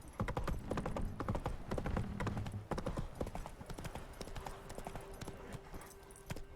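Horse hooves galloping in The Witcher 3: Wild Hunt, a fast rhythmic clip-clop of hoofbeats that stays steady and close, easing slightly toward the end, with a faint voice briefly underneath.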